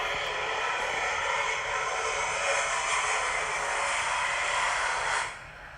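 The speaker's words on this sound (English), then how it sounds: "you see a Lockheed Martin F-22 fighter" A Lockheed Martin F-22 fighter jet takes off, heard as a steady, broad roar of jet noise that holds for several seconds at moderate distance and then drops away near the end, with no voices.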